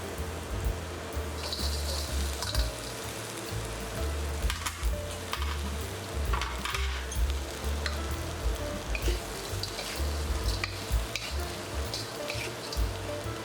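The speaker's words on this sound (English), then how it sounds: "Then we can add our squid" Squid stir-frying with red peppers and green onions in a hot pan for salt and pepper squid, a steady close sizzle with occasional scrapes and tossing clatter throughout.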